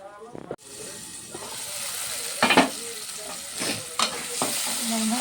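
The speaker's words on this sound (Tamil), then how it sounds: "தக்காளி நல்லா வதங்கிடுச்சு." Onions and tomatoes sizzle and fry in a pan for prawn curry, a steady close hiss with occasional stirring scrapes, while someone talks over it.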